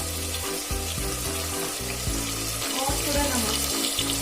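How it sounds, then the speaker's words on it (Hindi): Spices and vegetables fry and sizzle in a pan for khichdi pulao as they are stirred, a continuous close hiss with a brief spoken phrase over it. "हम इसको चला देते हैं ताकि मसाले अच्छे से भुन जाए सब्जियों के साथ"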